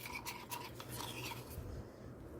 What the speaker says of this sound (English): we're going to stir this by hand and hopefully it works